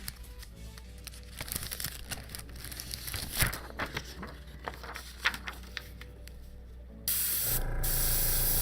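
An aerosol spray can hisses in short and longer bursts while painting a test patch on scrap paper, with crinkling paper and a steady background hum, ending in a louder sustained spray.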